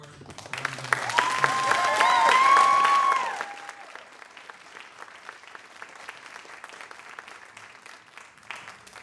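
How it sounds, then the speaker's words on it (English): An audience at a business recognition awards event applauds the advisory board, a dense burst of clapping that swells and then thins to scattered claps, with a sustained tonal chime ringing over it early on. "Please give our board a round of applause."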